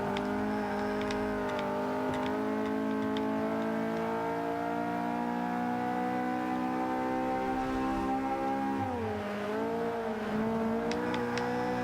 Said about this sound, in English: I'm gonna keep revving it up to about 8 grand